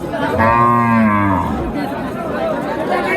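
A cow moos loudly and close by for about a second at a cattle market in Naogaon's Choubaria haat, where pregnant cows are sold, with crowd chatter and people talking in the background.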